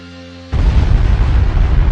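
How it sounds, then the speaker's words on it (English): Volcanic eruption of Vesuvius above Pompeii: a sudden, loud blast breaks in after a brief quiet moment and swells into a sustained, deep roaring rumble. "Suddenly, a terrible explosion shook the earth"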